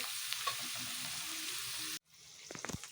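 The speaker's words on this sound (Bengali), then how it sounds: "আমি সবজিগুলো একটু নাড়াচাড়া করে নিচ্ছি ভাজা বেশ হয়েই এসছে" Vegetables stirred and frying in a home kitchen pan for pasta, a steady close sizzle with scraping stirs that cuts out abruptly near the end, followed by a few sharp clinks and softer frying.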